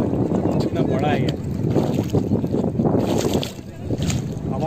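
Water rushing loudly and continuously through the Kanauta dam, a broad steady roar close by with wind buffeting the microphone and faint voices mixed in.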